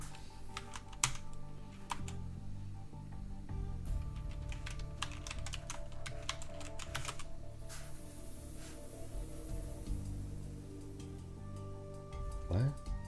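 Keys clatter on a computer keyboard in steady bursts of typing, with a mix of background sounds running underneath throughout.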